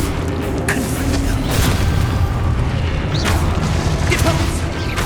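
Confringo blasting spells explode in Hogwarts Legacy, heavy booming bursts rolling over a dense, continuous wash of game noise, with a few sharper impacts near the start and middle.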